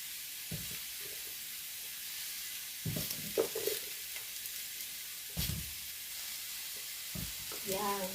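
Champignon mushrooms grilling for a homestyle Thai mushroom chili paste give a soft, steady sizzling hiss, broken by a few quiet clacks and scrapes of handling.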